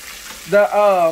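Soft sizzling of cornstarch-coated mushrooms frying in oil in a pan, broken by a brief, loud tonal squeal in the second half.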